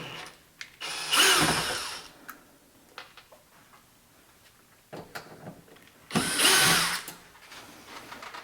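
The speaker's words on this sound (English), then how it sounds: "remove the screws to take this plate off" Screws being removed from a plate on a Friedrich PTAC air conditioner, two longer bursts of a power screwdriver whirring plus scattered small ticks and clicks between them, close and fairly quiet.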